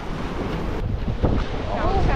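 Strong, rough ocean waves roll onto Ba Tri beach, a loud continuous surf roar mixed with heavy wind buffeting the microphone, with a faint voice in the background.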